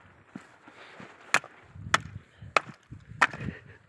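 Four sharp chopping strikes of an axe splitting wood, spaced roughly evenly, with low rustling and thuds between blows.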